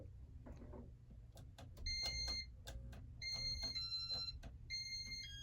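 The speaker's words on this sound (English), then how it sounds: "the beeps are very high pitched" A Casablanca Panama 5 ceiling fan from about 1984 in demo mode gives a series of sharp, high-pitched electronic beeps in irregular bursts, some single and some in quick runs, over a faint low hum.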